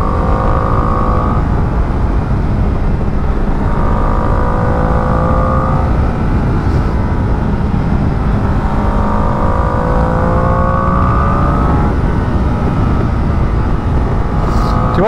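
A 2025 Ducati Panigale V2 motorcycle ridden on the road, its engine droning loud and close with repeated rises and falls in pitch as it accelerates through the gears, over steady wind roar.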